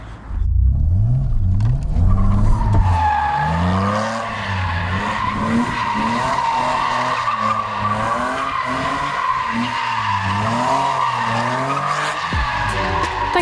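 A BMW E36 driven hard, its tires squealing and skidding in long wavering runs over a steady engine drone, loud and close with no talk.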